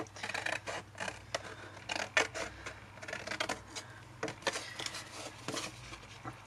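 X-Cut scissors snip through paper while a mini folio is being made, a close run of quick crisp cuts in uneven bursts with short pauses between them.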